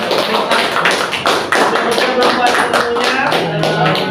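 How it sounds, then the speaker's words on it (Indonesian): Applause in a school presentation session after a teacher's talk: continuous dense clapping from a group of listeners, fairly loud and even throughout. "Boleh tepuk tangan."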